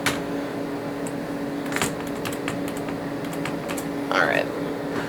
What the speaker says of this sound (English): I'm gonna go ahead and type my password.